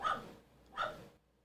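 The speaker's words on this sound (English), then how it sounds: "I hope you guys can hear her barking on this." Two short, muffled dog barks about a second apart, fairly faint and close, with quiet in between.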